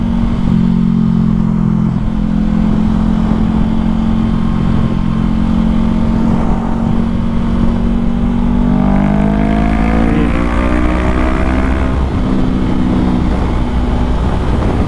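A 2020 Honda CBR500R motorcycle accelerates with a loud, steady engine drone that rises in pitch through the gears, heard up close with wind noise and no speech.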